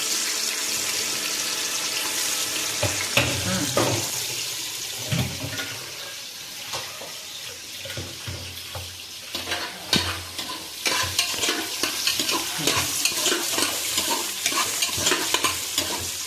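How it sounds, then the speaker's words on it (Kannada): Chopped onions fry in hot oil in a pan for mutton sukka, a steady sizzle broken by repeated scraping stirs and clinks of the spoon, close and fairly loud with no voices. "ಉಳ್ಳಾಗಡ್ಡಿ ಕೆಂಪಾಗುವಂಗೆ ಚೆನ್ನಾಗ ಕರ್ಕೋಬೇಕು ನೋಡ್ರಿ"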